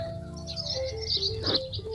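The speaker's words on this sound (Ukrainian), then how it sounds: "Пташечки співають" Birds chirp and twitter in a dewy morning vegetable garden, bright high calls repeating over a soft steady background with no talking.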